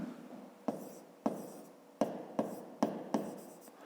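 Pen or chalk writing out a maths solution for a 5th-grade exercise, a run of sharp taps and short scratchy strokes, several distinct marks spaced irregularly, close and fairly quiet with no talk.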